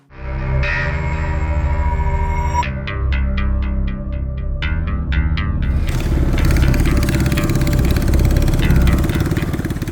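A boat's engine runs steadily and loudly on the Twaing Khal river near Alikadam, Bandarban, in the monsoon, giving a close, continuous drone with a few rhythmic clicking and whirring sounds layered on top.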